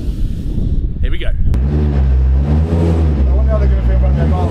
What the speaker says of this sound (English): I bet they've never had a rally car drift around their driveway